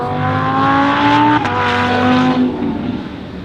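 A race car accelerates hard on a track, its engine note climbing loud and close through the gears, with a brief shift break in the middle before the revs ease off toward the end.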